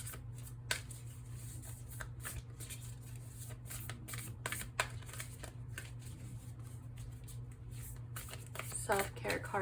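Tarot cards being shuffled by hand to pull a self-care card, a run of soft riffling flicks and papery snaps at close range, coming in bursts with brief gaps and a low steady hum beneath.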